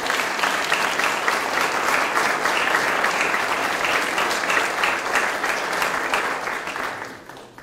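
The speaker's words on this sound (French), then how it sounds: "on peut vous applaudir très fort" Sustained, dense applause from a sizable crowd at a New Year's wishes ceremony in Pineuilh, steady and loud throughout before tapering off slightly at the very end.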